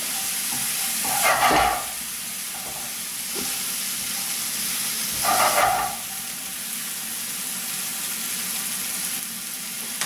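Ingredients for chicken fricassee frying in a pan while being stirred, a steady soft sizzle with two brief louder bursts of scraping and hiss.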